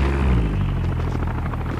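Helicopter rotor in a battle royale video game, a steady low throbbing rumble with a dense mid-range wash, holding at a fairly constant loudness throughout.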